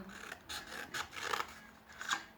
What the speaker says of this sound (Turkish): Yukarı kadar hepsini tek tek ince şeritler halinde kesiyoruz